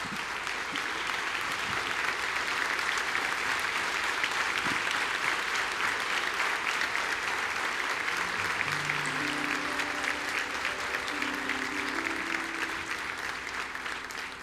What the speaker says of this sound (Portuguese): Vamos colocar em pé e dar uma forte salva de palmas ao Senhor.